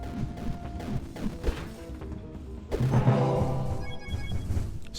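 Weapons smashing through shields in the Barony dungeon game: scattered thuds and knocks, then a louder crashing impact with a clattering burst of clangs and rattles that lingers and fades.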